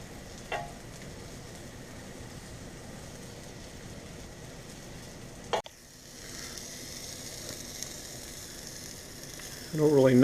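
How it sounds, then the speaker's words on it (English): Indigo milky mushrooms sizzle quietly in a frying pan, a soft continuous crackle with a sharp clatter midway and a brief louder noise at the end. "I don't really know how long to cook these, depending on the mushroom"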